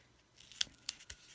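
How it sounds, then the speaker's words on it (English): Ribbon-cutting scissors snip three times at a crafting table during card making, short crisp cuts spaced evenly, quiet and close with no talk. "That used to be what I considered my ribbon cutting scissors"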